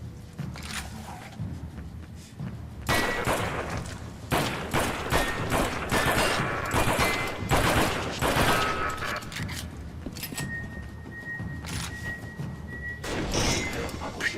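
Rapid gunfire bursts and impacts from the video game Aliens vs Predator crackle densely throughout, with thuds, crashes and a high electronic tone, and a voice talks occasionally over the action.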